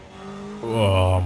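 An S1 class car in Forza Horizon 5 revs up and accelerates, its engine note jumping suddenly louder and holding a strong steady drone, with a voice talking over it.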